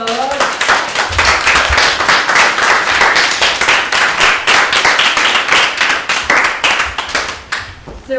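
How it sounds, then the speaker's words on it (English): A live audience claps loudly and close, a dense and continuous round of applause that stays strong for several seconds before thinning out at the end. "give yourselves a round of applause."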